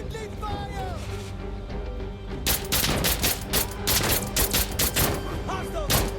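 Rapid gunfire bursts in Insurgency: Sandstorm, loud repeated shots in quick clusters mixed with game sounds and shouting voices.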